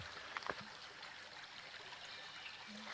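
Water trickling through a real rocky creek bed after rain, a faint steady babble with a few soft splashes, quiet and alone.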